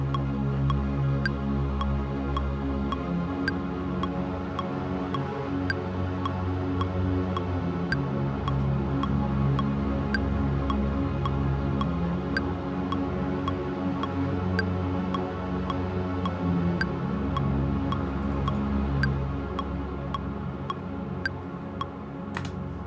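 Verse of a remix with no vocals, a lush Solina string synth pad sustained under a steady, sharp ticking percussion pulse and a low bass line, even and continuous throughout.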